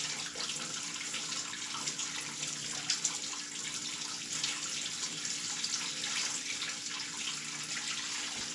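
Water pouring steadily into a 75 gallon aquarium through a diffuser, a continuous close splashing rush like a running tap, with no talking over it.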